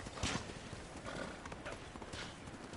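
Horse hooves clop rapidly in a galloping rhythm in the samurai game Ghost of Tsushima, fairly faint and steady over a soft ambient background.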